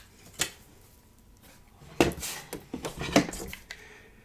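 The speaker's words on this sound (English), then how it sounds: "Our Sharpie Sharp blade cuts through like butter." Rotary blade slicing through quilting cotton along the outer trim lines of a finished sew-along block, heard as a few short, crisp cuts with a slight scrape, close and alone in a quiet room.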